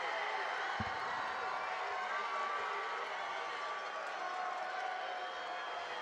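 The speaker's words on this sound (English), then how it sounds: "And the Shamokin crowd alive" A Shamokin Indians home crowd roars at a varsity high school football game against Mount Carmel Area, a steady broad wash of cheering that holds for the whole stretch beneath continuous play-by-play talk.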